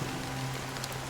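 Steady rain falls in the Honkai: Star Rail video game, a dense even hiss of drops with a faint low hum beneath it and no voices.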